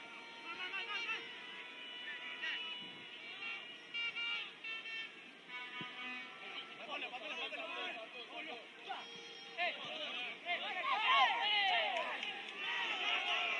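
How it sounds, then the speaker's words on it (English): Crowd noise from a packed football stadium in Kota Kinabalu during a Sabah versus Pahang Piala Malaysia match, a thin distant murmur with occasional swells and whistles, heard under steady commentary. "Big crowd in Kota Kinabalu."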